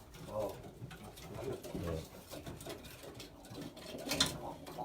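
Racing pigeons in a loft coo softly with low, rolling calls, repeated throughout, along with light rustling close by.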